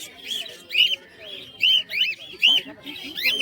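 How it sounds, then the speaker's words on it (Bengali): Budgerigars chirp at a pigeon and bird market, bright warbling calls repeating in bursts about every second, close and fairly loud over a low murmur of background crowd noise. "বদ্রি পাখির কালেকশনগুলো দেখুন"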